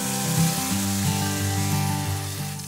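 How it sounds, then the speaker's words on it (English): Cinnamon and chili sizzle loudly in hot oil in a pan, a steady dense frying hiss close up with no talking. "So they're going to go into a pan with some oil in it."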